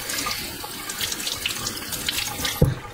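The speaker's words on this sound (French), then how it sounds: "Donc je le passe sous l'eau." Tap water runs steadily into a kitchen sink while something is rinsed under the stream, a close continuous splashing with a brief clunk near the end.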